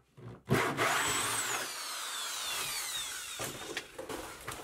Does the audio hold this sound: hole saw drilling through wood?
yes